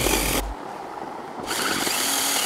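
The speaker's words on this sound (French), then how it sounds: "j'ai l'impression qu'il est en train d'abattre un sapin avec la petite tronçonneuse" A small chainsaw cuts into a fir tree high in the mountains: loud, raspy motor roar that drops away briefly, then surges back at full strength.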